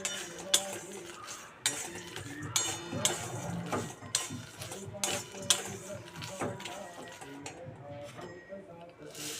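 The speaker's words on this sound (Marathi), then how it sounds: "नंतर पोहे भाजून घ्यायचे।" Poha being dry-roasted in a pan, a spatula scraping and clinking against the metal in a steady rhythm of sharp strikes, with someone talking over it.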